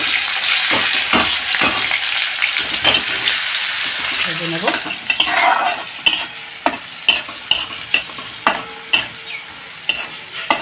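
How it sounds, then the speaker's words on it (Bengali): Chopped onions fry and sizzle in a pan for a Bengali rohu fish-head muri ghonto, with a steady hiss and a run of sharp stirring scrapes and taps that grow more regular toward the end, close and loud. "পেঁয়াজ কুচি দিয়ে দিচ্ছি পেঁয়াজটা ভেজে নেব"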